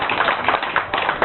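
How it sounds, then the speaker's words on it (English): An audience at a live magic show applauding a performer named Andy Dallas, heard as a short burst of dense, steady clapping from many hands. "How about another big round of applause for Andy Dallas?"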